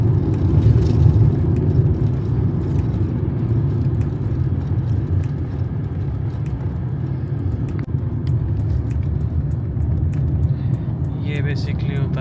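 Car driving down a winding mountain pass with hairpin bends from Mount Titano, a steady loud low engine and road rumble heard from inside the cabin throughout, with people talking over it.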